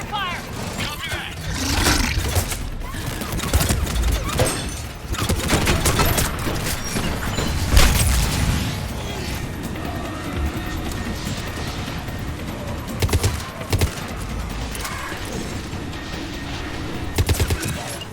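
Sustained cover gunfire in a Mass Effect 3 battle scene: dense rattling bursts and booms running throughout, loud and close, with occasional voices shouting beneath the shooting.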